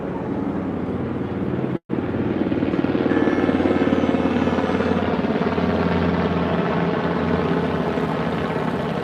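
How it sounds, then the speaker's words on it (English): A military helicopter drones overhead with a loud, steady rotor thrum and engine roar, briefly cut by a short gap, then continuing evenly. "Military helicopter."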